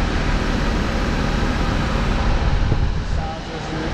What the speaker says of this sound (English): You can hear the engine, no knocks, no ticking.